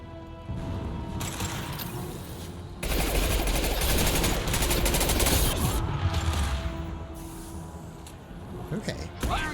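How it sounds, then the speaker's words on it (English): Heavy weapon fire in Mass Effect 2 during a mission on the prison ship Purgatory, with loud sustained bursts and booming impacts over a rumbling low background, a player's voice talking occasionally through the action. "Firing a high impact shot."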